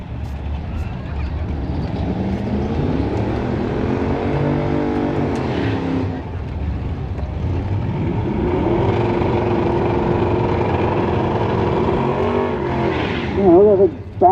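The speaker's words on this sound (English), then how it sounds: "Look at it bounce on the burnout." A drag racing car does a burnout at a raceway, its engine screaming loud and close with rising and falling revs and tire squeal; the roar dips briefly midway, then surges again before a sharp, high burst at the end.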